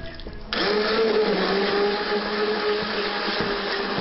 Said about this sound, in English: This is a blender, so we're just going to stick this right here in the soup.